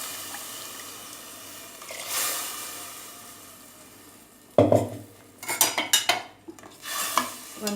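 A spoon stirs chicken curry in a pot, with distinct clinks and scrapes after a quieter stretch of low kitchen background noise, close and moderately loud.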